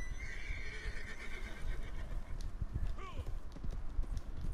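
Horse neighing and hooves clip-clopping in the video game Red Dead Redemption 2, a long whinny over steady rhythmic hoofbeats, fairly faint overall with game ambience beneath.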